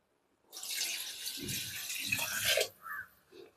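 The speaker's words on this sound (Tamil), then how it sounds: "இதில் தண்ணி ஆட் பண்ணிடலாம்." Water poured from a vessel into a pot of chicken biryani being cooked, a steady splashing pour lasting about two seconds, close and clear, trailing off into a few drips and clinks.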